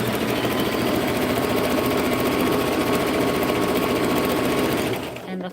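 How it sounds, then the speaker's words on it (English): A sewing machine stitching around an index card runs steadily and loudly in a fast, even mechanical whir for about five seconds, then stops abruptly at the end. "I know that my sewing machine is not in frame. I'm literally just sewing around my index card."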